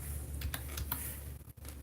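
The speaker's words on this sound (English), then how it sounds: "we're going to type in control panel" Soft keystrokes on a computer keyboard as a search is typed on a Windows 10 PC, a short run of light clicks over a steady background hum, fairly faint.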